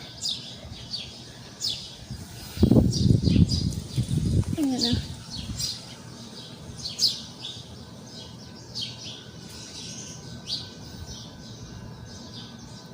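Birds chirp and tweet repeatedly in an outdoor setting, in short bright calls spread steadily throughout, with a person speaking briefly in the middle.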